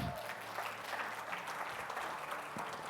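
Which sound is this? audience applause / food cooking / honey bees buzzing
audience applause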